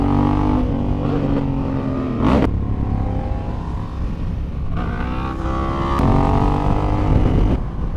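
A motorcycle engine revs hard during a wheelie on a London street ride toward Canary Wharf, a loud, close roar that rises and falls in pitch with two sharp surges, with traffic noise around it.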